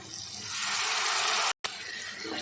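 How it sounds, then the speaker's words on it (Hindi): Water splashes into hot frying spices for dal mash, a loud broad sizzling hiss that swells, cuts off briefly, then continues, with no talk over it. "थोड़ा सा साथ में पानी डाल देंगे।"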